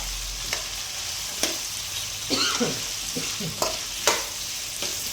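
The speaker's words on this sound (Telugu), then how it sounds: "ఇదిగోండి ఆయిల్ పెట్టి కడాయిలో వేసాను. ఇవంతా బాగా ఫ్రై అవ్వాలి." Masala sizzles in hot oil in a kadai for a restaurant-style paneer curry, a soft steady frying hiss broken by several sharp scrapes of a stirring spoon, close and fairly quiet.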